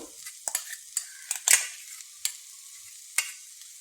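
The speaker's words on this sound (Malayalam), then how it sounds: "ഇട്ട് നമുക്കൊന്ന് ഇളക്കിയിട്ട് ഒരു മിനിറ്റും കൂടി വേവിക്കാം" A spoon scrapes and stirs sweet potato leaf thoran with a ground coconut paste in a pan, giving several sharp, quiet scrapes and clinks spaced irregularly over a soft background sizzle.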